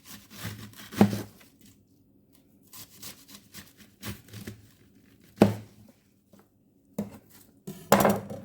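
Kitchen knife chopping vegetables for kimchi and sauerkraut, giving a handful of separate crisp cuts and knocks against a board with quiet gaps between them.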